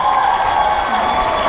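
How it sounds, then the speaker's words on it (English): An audience applauds at a live acrobatic show featuring hula hooping and machete juggling, a steady dense wash of clapping that runs unbroken through the whole moment. "please give Ian a round of applause for being a great sport today"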